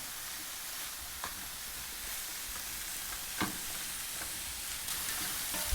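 Onions and sugar fry in a pan with a steady, loud broadband sizzle throughout, broken by a few soft clicks of stirring, with no voices.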